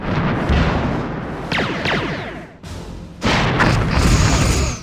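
Torpedo and disruptor fire strikes a ship in the space combat game Star Trek: Bridge Commander, a run of loud booming impacts and rapid bursts, briefly dropping away before another heavy rumbling blast.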